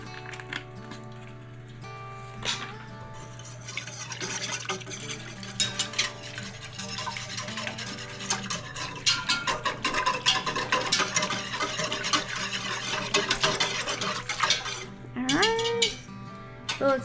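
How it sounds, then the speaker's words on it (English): A whisk scrapes and stirs quickly through strawberry jam in a pot as Sure Gel pectin is mixed in, with continuous close rattling and clinks against the metal sides and no talking. "I'm going to whisk to try not to lump it"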